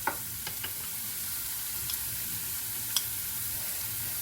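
Onions sautéing in a pan for a prawn kizhi dish give a steady, close sizzling hiss, with a few faint ticks and clinks scattered through it.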